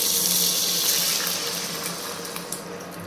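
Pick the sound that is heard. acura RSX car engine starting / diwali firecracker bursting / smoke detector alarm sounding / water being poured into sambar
water being poured into sambar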